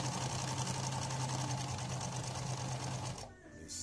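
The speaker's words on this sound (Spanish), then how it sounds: "Está arrastrando perfectamente, trabajando perfectamente." A Singer Facilita Profesional 36 sewing machine runs steadily, stitching with a close, continuous mechanical whir and needle chatter that cuts off just before the end.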